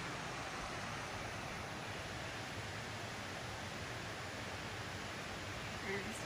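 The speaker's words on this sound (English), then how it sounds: "You get that cool breeze from the mountain and the wonderful sound from the creek." Steady broadband rush of a mountain creek flowing beside a river cabin, constant and even throughout with no pauses, like continuous water noise close by.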